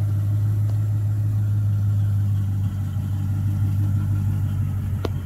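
A 2006 Chrysler 300 SRT8 engine runs at a steady idle, a loud deep droning hum close by that holds constant with a faint tick near the end.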